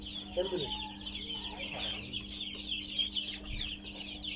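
Colored broiler chicks from a poultry farm cheep and cluck continuously nearby, with high overlapping peeps and a steady low hum in the background.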